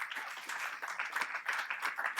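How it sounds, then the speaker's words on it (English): An audience at a finale event claps in a brief round of applause, a moderately loud patter of many hands that stays fairly even throughout. "So round of applause."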